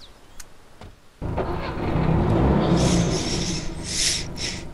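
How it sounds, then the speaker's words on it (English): A UAZ car engine in the video game DayZ starts up loudly and keeps running with a steady, droning rumble and some higher whine, heard close and without talk. "This car's so loud as well."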